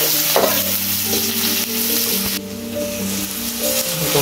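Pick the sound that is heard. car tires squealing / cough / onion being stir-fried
onion being stir-fried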